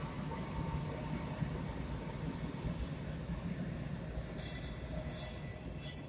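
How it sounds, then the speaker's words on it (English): A train rolls past outdoors as a steady broadband rumble that holds throughout, with several short metallic clinks near the end. "I'll wait till the train goes by."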